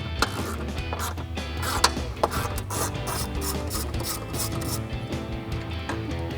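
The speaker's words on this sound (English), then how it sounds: "Now we're gonna grab a ratchet with the extension 10mm socket." Ratchet fitted with an extension and 10mm socket backing a bolt out of a strut brace on a 2016-2024 Camaro SS, heard as a dense run of rapid close clicking and metallic rasping with no speech over it.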